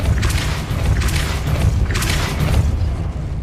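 Confringo blast spells going off in Hogwarts Legacy, a run of loud, deep booming bursts with bright crackling tails, about three blasts over a constant low rumbling game backdrop.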